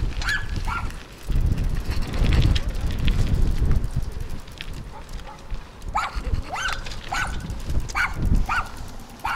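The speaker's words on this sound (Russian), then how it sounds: "Ну, наши тявки тоже лают." Dogs bark in scattered bursts, some close and some farther off, over heavy wind buffeting the microphone, with voices talking in between, in Krasnodar Krai.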